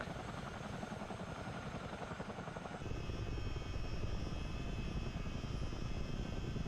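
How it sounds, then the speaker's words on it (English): Tandem-rotor Chinook helicopter in Microsoft Flight Simulator, a steady loud rotor and engine drone with rapid blade chop that shifts and thickens partway through, no voices. "it is a Chinook"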